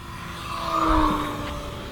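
An electric motor on a 1.5 m Conscendo Evolution RC glider airplane runs at full throttle, a high steady whine that swells briefly louder and then eases as the plane passes nearby.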